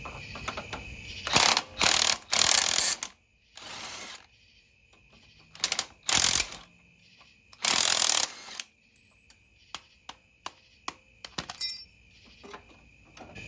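A socket wrench ratchets in several quick bursts while car bolts are being removed, with clicking strokes separated by short pauses and lighter metallic ticks toward the end, close and clear with no talk.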